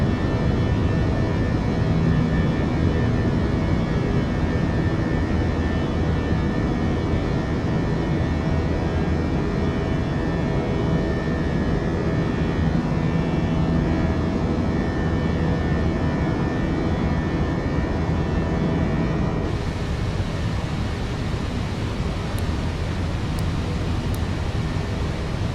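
Simulated jet engines of a Fenix A321 in JetBlue livery at takeoff from San Francisco in MSFS 2020 give a loud, steady broadband roar that holds unbroken throughout, with the tone shifting slightly near the end.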